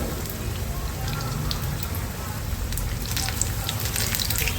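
Mirchi bajji, batter-coated green chillies, frying in hot oil, giving a steady, dense crackle and hiss that runs unbroken throughout at close range.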